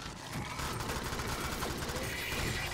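Rapid automatic gunfire in the Alien Swarm video game, a dense continuous stream of shots and mechanical clatter at moderate level, with no clear gaps between bursts.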